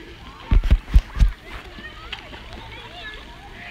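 A child named Emmy splashing in a small campground lake, several sharp splashes in quick succession near the start, then gentle water sloshing, with voices and someone speaking.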